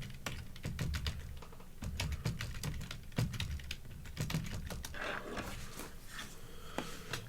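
Fingers type quickly on a computer keyboard, a close, dense run of clicking keystrokes that thins out near the end with a few isolated taps.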